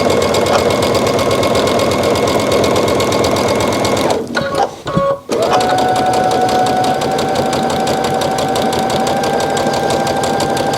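A sewing machine stitches a fabric face mask with a loud, steady, close mechanical whir and rapid rhythmic needle clatter. It pauses briefly about halfway through, then runs on continuously.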